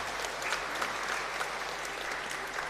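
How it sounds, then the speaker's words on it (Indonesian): A church congregation applauding a frater after a Sunday Easter homily, a continuous, even roar of many hands clapping together, sustained at a steady level without pauses or voices. "Tepuk tangan untuk frater, luar biasa."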